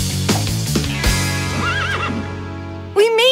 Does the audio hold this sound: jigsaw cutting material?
no